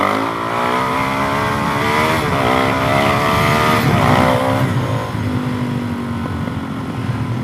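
A Suzuki DRZ 470 big bore stroker motorcycle accelerates hard, its engine note climbing and dropping through several quick gear shifts before settling at a steady drone, loud and close, with no talking.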